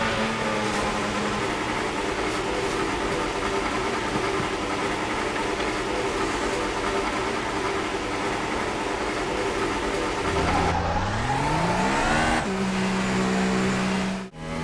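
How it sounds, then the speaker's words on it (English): A Formula 1 car engine in F1 2018 career mode at the Austrian Grand Prix fires up and idles with a loud, buzzing drone, then revs in a rising sweep near the end before cutting off. "Basically an engine fire up which sounded absolutely awesome."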